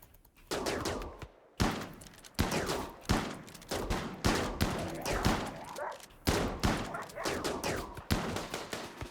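Repeated gunshots in RimWorld, a colony game, firing in sharp, evenly spaced cracks that each decay quickly, about a dozen over the stretch, fairly close and moderately loud with a faint voice in the background.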